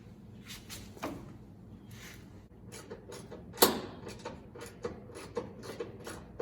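A ratchet wrench turns during a tachometer install on a vehicle, giving scattered, irregular clicks and clacks at close range, with one sharper knock standing out among them; no one speaks.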